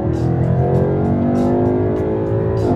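A wide-body Ford GT Mustang accelerates at full throttle, its engine holding a loud, close, rising roar with a dense rumbling note, broken by brief bursts of rushing wind noise.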